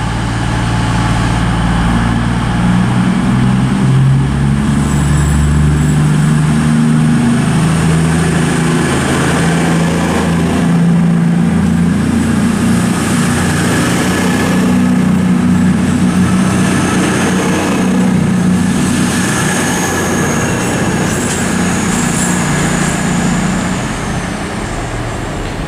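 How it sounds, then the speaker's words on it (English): CrossCountry Class 220 diesel unit 220017 pulling out of Oxford station, a loud, steady engine drone with deep low rumbling that stays strong throughout and eases slightly at the end. "departing now is the 1516 cross-country service from Manchester Piccadilly to Bournemouth, formed the 220-017"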